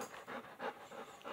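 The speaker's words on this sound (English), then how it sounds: "You cute doggy, are you?" A two-year-old golden retriever pants close up in quick, steady breaths, rhythmic and continuous with no talking.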